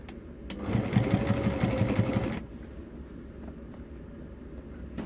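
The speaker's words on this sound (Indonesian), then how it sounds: "kemudian kita jahit" A sewing machine runs in one steady burst of rapid, even stitching, sewing a folded zipper into an accordion pleat, then stops and leaves a quiet room.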